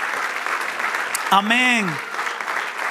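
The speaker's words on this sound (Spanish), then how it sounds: "Dele otro aplauso" Church congregation applauding during a service, a steady wash of clapping that runs the full length while a voice rises in a short drawn-out exclamation over it.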